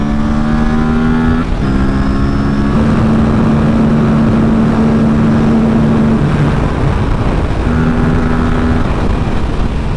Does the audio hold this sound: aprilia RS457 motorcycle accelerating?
yes